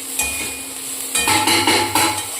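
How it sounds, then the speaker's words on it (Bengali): Eggplant with neem leaves fries in a pan, with scraping stirs and clinks of a spatula over a soft sizzle, a few close, distinct strokes in quick succession. "নিম বেগুন চলছে ভাজা"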